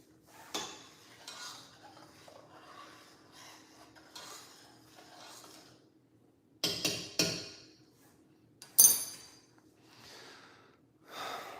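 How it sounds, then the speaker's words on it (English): A spoon scrapes and clinks around a pot of oatmeal in a few separate bursts, fairly quiet and close, with soft breathing between stirs. "let's give it a stir"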